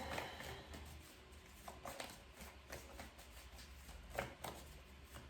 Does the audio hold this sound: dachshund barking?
no